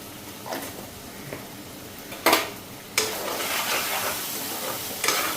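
Spices with bay leaf, turmeric and salt fry in a pan, a steady close sizzle broken by several sharp scraping stirs of a utensil against the pan.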